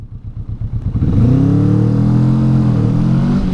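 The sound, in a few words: 2021 Honda CMX 500 Rebel motorcycle accelerating away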